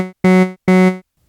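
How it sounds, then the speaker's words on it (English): A percussive wavetable on a Modal Argon8 synth plays short, buzzy tones at the same pitch. A clipped note comes first, then two full notes, each with a sharp attack and a quick decay. "On the first wavetable, let's choose something percussive."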